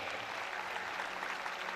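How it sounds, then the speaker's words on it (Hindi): Audience applause at a school farewell party in Punjab, a steady wash of many hands clapping, fairly soft and distant, sustained evenly for under two seconds. "तालियां आनी चाहिए"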